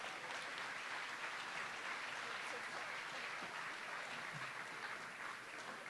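Applause from a conference crowd at an agriculture event in Regina, a steady wash of clapping at moderate distance that holds evenly for several seconds, with a faint voice mixed beneath.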